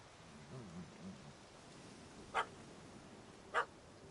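A puppy in The Witcher barks two short, sharp times a second apart after a few faint yips, quiet and alone against a low background.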